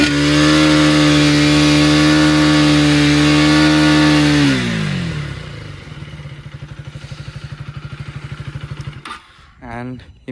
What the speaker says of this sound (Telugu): విన్నారు కదా సౌండ్ అయితే రిపీటెడ్ అవుతలేదు, రిపీటెడ్ రేవ్ వస్తలేదు బైక్లో.